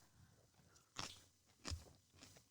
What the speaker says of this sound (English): We're going to hear it crunch